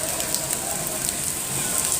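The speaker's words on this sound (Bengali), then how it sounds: "ঢাকায় শিলাবৃষ্টি হইতেছে" Hail and heavy rain falling in Dhaka, a dense, steady hiss and patter of drops and ice pellets striking surfaces, continuous and close throughout with no distinct pauses.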